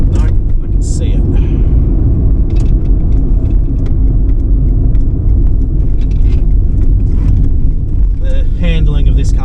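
An old Toyota Corolla drives along a road on a Tasmanian trip, its engine and tyre rumble loud and steady throughout.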